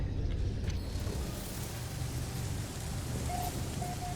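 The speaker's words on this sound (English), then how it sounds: "Sounds like probably toxic or acid rain while we're at it." Steady rain pours down in a toxic acid storm on an alien planet in the game No Man's Sky, a dense continuous hiss with low rumble and a faint tonal blip near the end.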